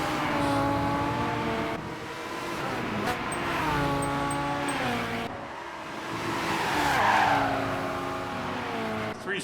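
A Ferrari 430 Scuderia race car drives in Gran Turismo 5, its engine note rising and falling through repeated shifts with brief tire squeal, while people talk over it.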